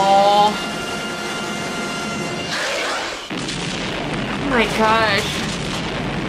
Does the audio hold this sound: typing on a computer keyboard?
no